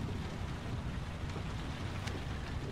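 Rain falls in the video game Heavy Rain, a steady, moderately loud patter and hiss that stays even throughout, with no speech.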